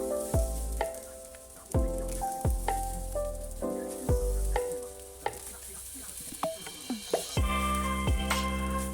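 Shrimp fried rice with eggs sizzles in a hot wok under repeated sharp clanks and scrapes of a spatula stirring and tossing the rice.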